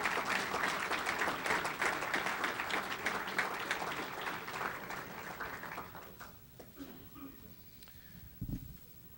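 A banquet crowd honoring the 2010-11 high school athletes of the year applauds loudly, a thick burst of clapping that gradually thins and fades over several seconds, leaving a few scattered claps and room noise.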